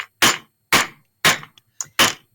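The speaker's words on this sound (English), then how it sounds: "Now I'm going to hammer it flat to give it a nice look." Sharp metal hammer strikes flattening jewelry wire for a J hook clasp on a table, five distinct loud blows at an uneven, roughly half-second rhythm with a faint rattle between hits and no talking.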